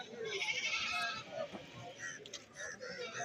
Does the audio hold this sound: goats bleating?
yes